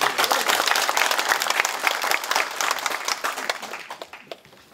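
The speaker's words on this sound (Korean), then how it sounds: "큰 박수 부탁드리겠습니다." An audience at a lecture opening ceremony in Gyeongbuk, South Korea breaks into warm applause, many hands clapping together at close range, gradually thinning out and fading toward the end.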